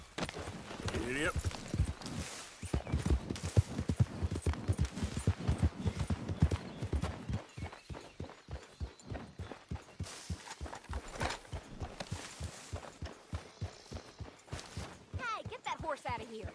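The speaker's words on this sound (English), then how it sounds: "Hey, get that horse out of here." Hooves of a horse clip-clop in a steady walking rhythm in Red Dead Redemption 2, clear and close, with brief speaking voices and a whinny early on, then continuing as regular hoofbeats.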